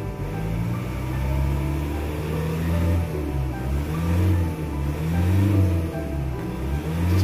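A Ford Raptor biturbo engine with a throttle delay, vibration and low-power fault runs close by, a steady low idle rising into several revving swells and settling back, with no talk over it.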